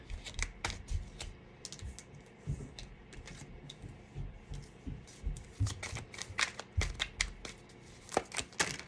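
Tarot cards shuffled and flicked out onto a surface during a reading, a run of quick papery riffles and slaps at close range with irregular rhythm, fairly quiet, no talking.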